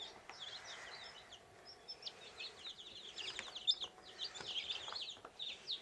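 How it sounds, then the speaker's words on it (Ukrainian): Tiny newly hatched chicks, Cochin and mixed breed, peep in a continuous high chorus of thin rapid cheeps, close by and steady, with no talking over them. "Такі маленькі курчатка."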